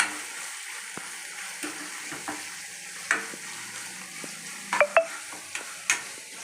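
Cabbage frying in a pan, a soft steady sizzle punctuated by scattered scrapes and clinks of a utensil against the pan, a cluster of louder knocks near the end, no voices.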